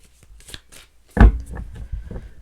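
A sharp riffle of tarot cards being shuffled, a quick fluttering burst after a few soft handling sounds.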